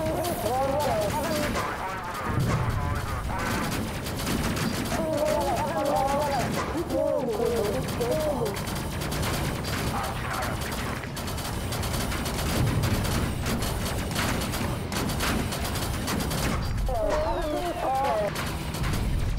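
Gunfire from the Space Crew video game while an enemy is shot at: repeated bursts of shots and impacts under electronic game sounds, with people talking over much of it.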